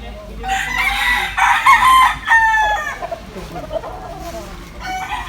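Roosters in a small backyard coop crow loudly and close by, with long, repeated calls over the first half, followed by scattered clucks and shorter squawks.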